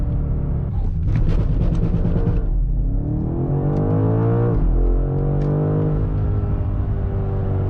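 A 2025 BMW M5 launching from a standstill, its engine roaring loud and close as it revs up through the gears, with a brief lull at a shift before pulling hard again.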